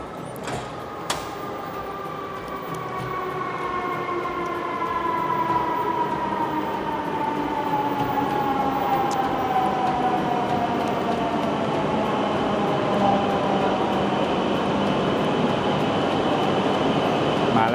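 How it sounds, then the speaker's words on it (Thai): A train runs steadily with a rolling rumble and a rising electric motor whine, loud and close, with no talk. "รถไฟขบวนของเราครับ"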